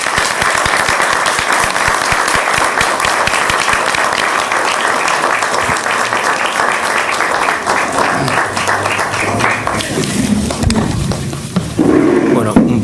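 Loud, sustained applause from a crowd at a local political party office opening, honouring the press, dense continuous clapping for over ten seconds, with voices and cheering rising near the end.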